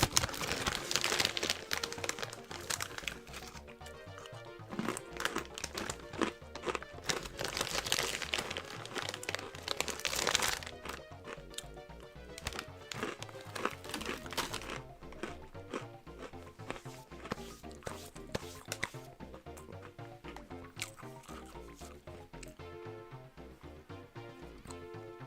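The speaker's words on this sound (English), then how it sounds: "Sorry, I was chewing." Plastic wrapper crinkles and crunches close by while someone chews food, a dense run of crackling bursts that thins into softer rustles and chewing.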